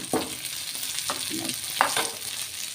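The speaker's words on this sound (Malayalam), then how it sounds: "അതിലേക്ക് കുറച്ച് കുറച്ച് കറിവേപ്പില ഇട്ട് കൊടുക്കാം" Curry leaves drop into hot oil for a Kerala-style dal, giving a steady close sizzle with a few sharp crackling bursts and light stirring scrapes, no voices.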